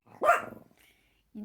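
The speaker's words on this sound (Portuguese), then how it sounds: "E meus cachorros estão latindo." A dog near a house barks once, loud and close, followed by a faint softer yelp and a brief quieter bark at the end, in an otherwise quiet setting.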